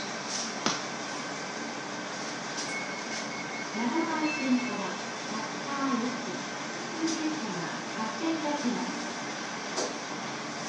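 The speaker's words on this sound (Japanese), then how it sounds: "函館線柿川行き普通列車まもなく発車いたします" A JR Hokkaido 711 series local train on the Hakodate Line rumbles and groans as it pulls away, with faint wheel squeals and steady mechanical hum in the background.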